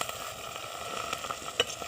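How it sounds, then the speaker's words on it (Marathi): Chickpea greens frying with crushed garlic in a little oil in a wok give a soft, steady sizzle with faint stirring clicks, close and quiet, and no one speaking. "थोडंसं तेल टाकले कढईत, चेचून घेतलेला लसूण टाकला आहे थोडासा आणि भाजी टाकली."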